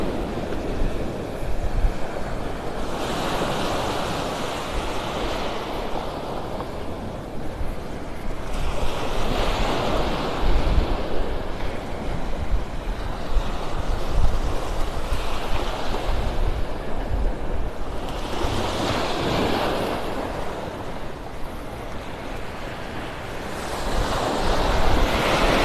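Ocean waves break on a beach in North Naples, Florida, on a morning walk, a continuous wash of surf that swells and recedes in slow surges every few seconds, mixed with steady wind buffeting the microphone.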